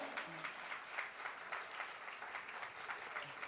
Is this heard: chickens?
no